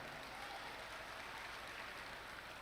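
Steady, dense applause from a crowd at a university event, faint and distant, a continuous patter of many hands with no voices standing out.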